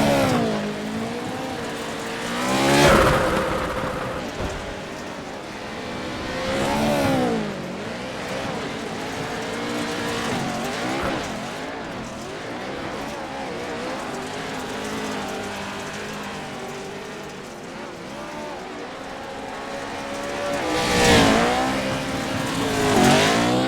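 Off-road racing truck engines in a video game, Pro 4 and Pro 2 classes at Bark River, roar and rev steadily with rising and falling pitch, louder surges as trucks pass and land jumps, no talk.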